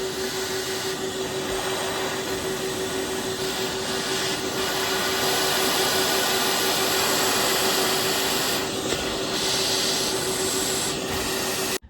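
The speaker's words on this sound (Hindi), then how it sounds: "पूरा एक प्रोफेशनल वैक्यूम है।" A 3000-watt professional vacuum cleaner sucks up dust and dirt from a car interior, a loud, steady whining roar with a constant tonal hum that runs unbroken for the whole stretch.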